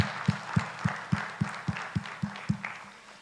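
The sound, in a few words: audience applause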